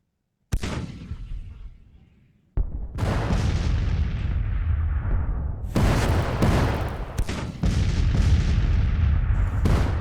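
Cannon and artillery shelling in the American Civil War strategy game Grand Tactician: Civil War, 1862 Virginia battle: heavy booming blasts, one sharp report with a fading tail, then dense overlapping rumbling barrages, loud and without talk.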